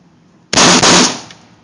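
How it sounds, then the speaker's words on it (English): Video game gunfire from rapid fast-triggering: a sudden loud burst of shots packed into about half a second, then a decaying tail, with no talk. "just blast the last ones off. Like, hold her, like. Just real fast, just fast triggering."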